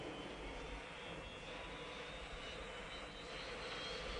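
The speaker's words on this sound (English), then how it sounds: "With first light, the rotors of our recon choppers whirl to light." Recon helicopters in the Vietnam War give off a faint, steady engine and rotor drone at first light, heard alone as a distant, even rumble.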